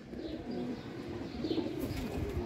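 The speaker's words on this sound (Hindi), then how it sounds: "उसके कबूतर आए हैं" Pigeons kept as pets, including laughing doves and white doves, coo steadily and fairly close, with soft low murmuring throughout and faint chirps above, no talking.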